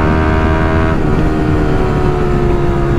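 A Yamaha R15 V3 with a chopped Akrapovic exhaust held at full throttle, producing a loud, continuous, raspy engine roar with a shift in pitch about a second in, close to the microphone and with no talking.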